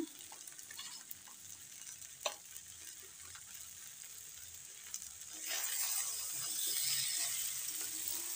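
Shredded cabbage sautéing in a pan with turmeric, sugar, cumin and coriander powder and salt for a vegetarian dish, a quiet sizzle with faint spatula scrapes that grows louder and denser toward the end.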